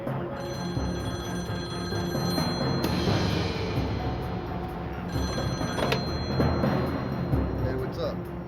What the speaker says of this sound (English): It was Guthrie on the phone.